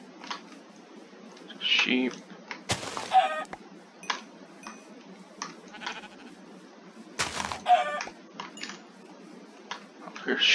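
Chickens cluck in short bursts in a blocky survival video game set near a forest, scattered chirps and clucks mixed with game sound effects and a couple of sharp clicks, while someone talks over them.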